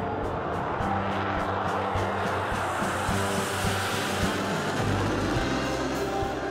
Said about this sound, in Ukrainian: І після цього один за одним літаки знялися в повітрі.